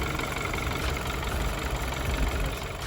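The 2.0-litre BMW F30 328i engine idles with a steady, dense mechanical rumble and light ticking, close up and even throughout, no voices present.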